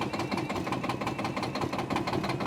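A cold pickup truck engine just started on a farm knocks with a rapid, even mechanical clatter, close and steady with no talk.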